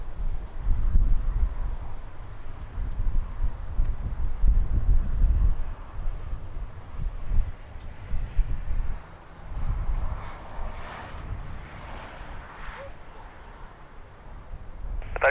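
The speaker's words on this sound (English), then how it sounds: "Nice reverse sound." An airliner landing at Lisbon Airport in strong crosswind applies reverse thrust, a deep rumbling roar that surges and fades under heavy wind noise, moderately distant.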